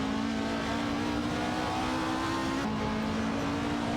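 Race cars roar in an AI racing video game, their engines a loud continuous drone with a steady pitch that shifts slightly midway as one car overtakes another. No voices.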